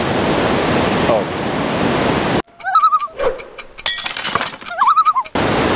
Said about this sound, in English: What a fabulous waterfall for a 1 minute Wednesday